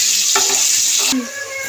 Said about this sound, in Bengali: একটু নুন, একটু হলুদ দিয়ে নাড়াচাড়া দিয়ে আমি প্রথমে ভেজে নেবো আলুটাকে।